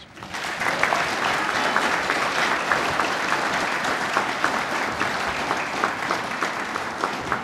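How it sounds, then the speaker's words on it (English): A graduation ceremony crowd claps for newly graduated cadets, a full sustained round of applause that swells after a quieter opening and holds steady to the end. "please give them a round of applause"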